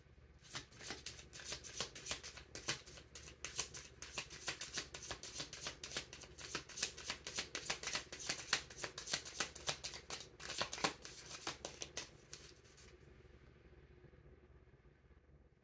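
Tarot cards riffled and shuffled in quick, dense bursts of crisp flicking for about twelve seconds, then fading to a quieter hush with occasional soft card handling, close and alone.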